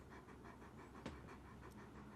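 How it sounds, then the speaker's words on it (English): A dog panting close by in a quiet room, rapid rhythmic breaths repeating evenly at low volume, with one brief louder sound midway. "That is a dog making that."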